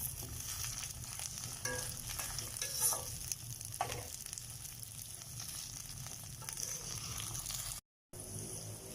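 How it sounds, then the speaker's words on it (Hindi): Okra frying in hot oil over high heat, a continuous close sizzle with occasional stirring scrapes, which cuts out briefly near the end before resuming, with no voices. "तो अब हम इसमें भिंडियाँ डाल देंगे फ्राई करने के लिए"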